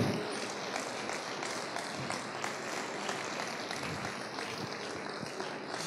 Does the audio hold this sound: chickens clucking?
no